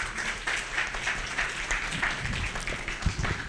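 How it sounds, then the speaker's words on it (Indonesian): Audience applause for the organizing committee at an Indonesian workshop on contrast-sensitivity correction lenses, a steady spread of clapping from a crowd held at moderate level throughout. "Ya, aplaus buat panitia."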